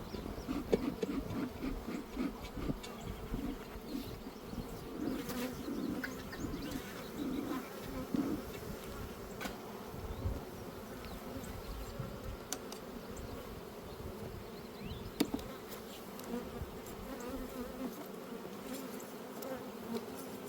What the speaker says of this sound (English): the bees are swarming now